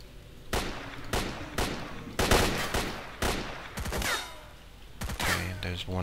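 AK rifle fire in S.T.A.L.K.E.R.: Call of Pripyat rings out as sharp single shots and short bursts at irregular intervals, loud and close, each crack followed by a brief decay.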